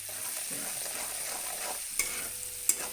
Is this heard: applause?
no